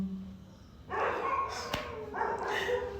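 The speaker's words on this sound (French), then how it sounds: "mes chiens sont en train de déranger" Dogs bark in two loud, close bursts, each a rough sustained yap lasting about half a second, against a quiet room with a faint low hum.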